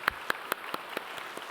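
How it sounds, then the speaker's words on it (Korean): Church congregation clapping sparsely for a newborn being introduced, about seven distinct claps spaced evenly in a slow, light rhythm, fading slightly toward the end. "우리 박수하도록 하겠습니다."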